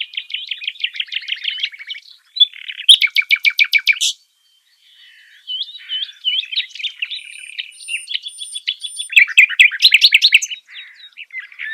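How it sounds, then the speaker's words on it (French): Nightingale singing at night, a loud, close, solo song of rapid repeated trills, buzzy rattles and whistled phrases, with a brief pause partway through. "Quand la nuit s'installe, presque tous les oiseaux se taisent, sauf le rossignol."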